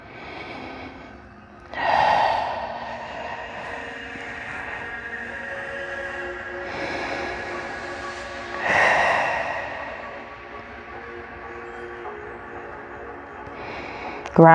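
Deep breathing during a standing somatic yoga practice: two strong, breathy surges a few seconds apart over a soft, steady background tone, with quieter breaths in between.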